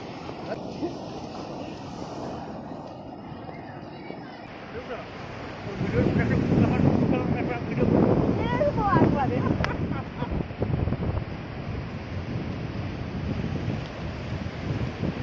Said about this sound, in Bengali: ভাটাতেই ঢেউটা এত সুন্দর,